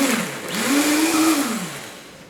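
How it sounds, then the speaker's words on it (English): High-power blender whirring through smoothie liquids, a loud motor whine that rises in pitch as it spins up, holds steady, then sags and drops away near the end, heard alone. "Once I get all the very liquid items into the blender, I like to turn the blender on."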